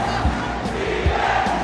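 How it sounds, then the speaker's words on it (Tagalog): A crowd at a basketball game roars and cheers continuously in the closing seconds, a loud dense wall of voices with rhythmic chant-like swells. "I just love the crowd, Migs."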